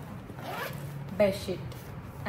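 The front zipper on a travel bag is pulled open in one quick rasping run, close and clear, with a person talking quietly around it.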